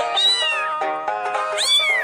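Two cartoonish cat meows from the Exploding Kittens card game sound clearly and close, each a bright rising-then-falling cry, with a short gap of lower mewling between them.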